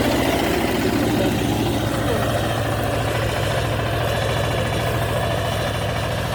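A Shifeng 350L tractor engine runs steadily with a low, throbbing chug, loud and close, continuing without pause and no voices.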